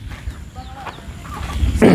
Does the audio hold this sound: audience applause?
no